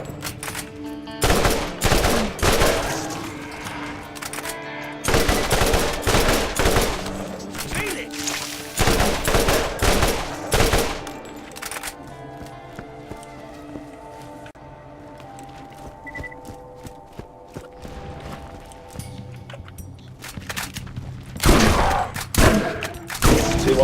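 Gunfire in the video game Borderlands comes in bursts of rapid automatic fire, loud and close, separated by quieter gaps of ambient game sound, with a final burst at the end.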